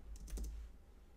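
A quick burst of a few soft keystrokes on a computer keyboard, close and quiet, then near silence.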